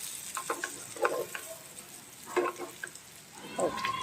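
Surmai (kingfish) pieces fry crisp in a hot pan, giving a soft steady sizzle broken by a few short, sharper crackling bursts, close by and moderately quiet.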